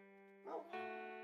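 A dog in the Minecraft video game gives a short bark or two, clean synthetic game sound over a sustained background music tone, brief and fairly quiet.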